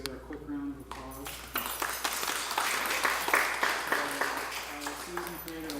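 A brief round of applause for Susan Mashinsky, a caricature artist, rises after a voice, scattered claps building to moderate, fairly close, with speech partly over it.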